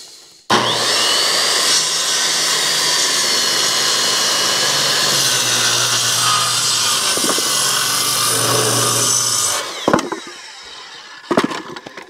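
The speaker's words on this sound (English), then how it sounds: "My 8 1/4 inch Makita. Tough cutting this full dimension lumber." An 8 1/4 inch Makita corded circular saw cuts through full dimension rough-cut lumber in one long, loud, continuous whine lasting about nine seconds, then spins down with a few knocks of wood afterward.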